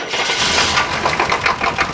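A floor sander's engine runs loud and close with a rough, rapid chugging just after cranking, a dense mechanical clatter that continues without pause and with no talk.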